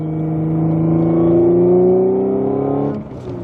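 Audi S5 B8.5 with CAP resonated test pipes, revving in one long, loud, steady pull that holds and then drops off near the end, with no voices.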